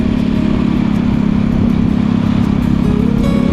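A motorcycle rides along a road from Tapa toward central Gorontalo, with a loud, steady engine drone and wind rush heard from on board.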